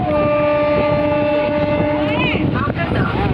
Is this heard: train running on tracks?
yes